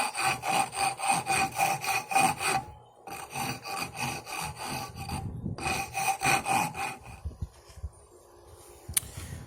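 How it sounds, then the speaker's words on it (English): Rhythmic back-and-forth abrasive rubbing as a wooden knife handle, cut from an old plank, is sanded and smoothed; steady close strokes in bursts with brief pauses, alone without voices. "I'm still polishing this. I'm still sanding it"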